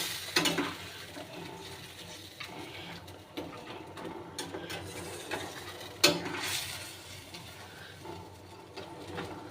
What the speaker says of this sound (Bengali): মাছের মাথাগুলো এবার দিয়ে দেব। দিয়ে একটু ভালো করে নেড়ে নেব।